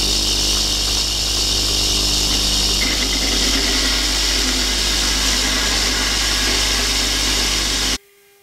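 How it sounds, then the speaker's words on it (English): A lathe bores out a metal collet block with the carriage locked, producing a steady loud motor drone with a constant cutting hiss that runs evenly, then stops abruptly at the end. "I'm just going to lock the carriage off now and bore this out until the collet fits."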